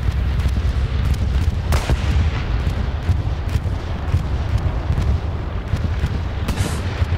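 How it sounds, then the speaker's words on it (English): Bombing-run explosions in a World War II style online game match, a dense continuous barrage of booms and rumbling blasts with sharper cracks scattered throughout, loud and unbroken with no voices. "Here comes a bombing run."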